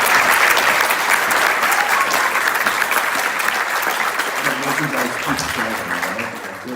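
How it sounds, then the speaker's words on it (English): At a school chamber and jazz concert, the audience gives dense, energetic applause for eighth-grade musicians, which carries on for nearly seven seconds and tapers slightly toward the end, with faint voices under the clapping. "Round of applause for our front row 8th"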